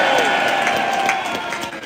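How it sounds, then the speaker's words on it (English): Crowd at a farming rally in London cheering for Scotland, a steady sustained roar of voices with scattered shouts. It stays fairly loud throughout and eases slightly toward the end. "A big cheer for Scotland,"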